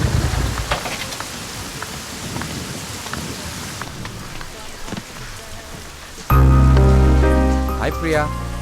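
Heavy rain pours down outside with deep rolls of thunder, a continuous close wash of drops. Near the end a loud, sustained tonal sound abruptly cuts in over it.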